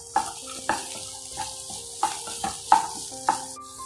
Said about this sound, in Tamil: 2 காயும் சேர்த்து நல்லா வதக்கிக்குவோம்.